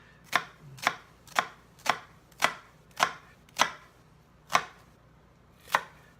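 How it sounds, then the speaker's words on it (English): A knife dices an onion on a cutting board in a home kitchen while pasta with tomato, basil, olives and capers is prepared: about ten crisp, evenly spaced chops, close and clear, with no talking. "Then we're going to dice it up."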